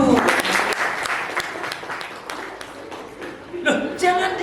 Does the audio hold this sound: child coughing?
no